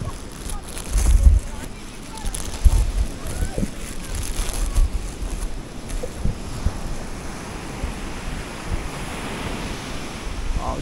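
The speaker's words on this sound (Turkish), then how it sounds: "Dalgalar bayağı büyük." Big ocean waves break and wash onto a Mexican beach under overcast skies, a steady close roar with heavy wind buffeting the microphone and occasional low thumps.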